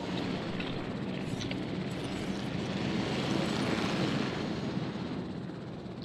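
Helicopters droning in the dinosaur park game Jurassic World Evolution, a steady, loud rotor and engine roar that fills the whole stretch without letup.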